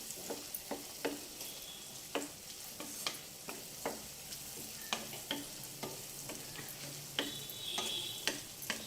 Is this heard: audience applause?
no